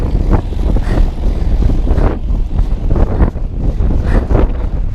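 Strong wind buffets the microphone of a cyclist out riding, a continuous low roar that swells and gusts unevenly and close up for the whole stretch, with no talk.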